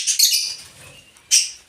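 Pet lovebirds give short, bright chirps close by: a quick pair of high tweets at the start, a pause, then one more sharp chirp near the end.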